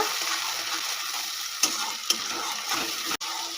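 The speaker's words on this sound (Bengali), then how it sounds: "টমেটো বাটাটা পেঁয়াজের সঙ্গে খুব ভালো করে মিশিয়ে নেব" Tomato paste stirred into browned onions in a hot pan for a pointed gourd pasinda gives a steady close sizzle, with a couple of sharp utensil clicks and a brief dip near the end.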